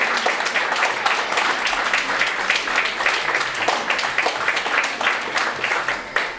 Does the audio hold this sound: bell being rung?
no